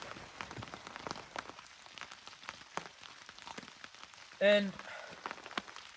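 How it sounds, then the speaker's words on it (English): Steady rain patters across a campsite at Polblue campground in Barrington Tops, a dense crackle of drops on surfaces throughout, with a brief louder vocal sound partway through. "I'm enjoying this rain, that's for sure."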